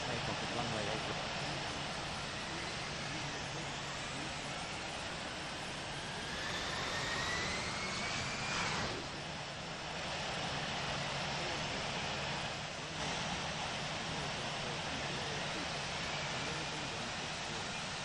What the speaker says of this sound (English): Miami Unicorn, corporate 426 is taking off runway 8 right, departing straight out.